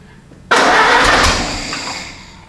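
A 1930 Ford AA Doodlebug engine cranks hard with the choke on, a loud, close, rough mechanical roar that bursts in suddenly and churns for about two seconds before easing slightly.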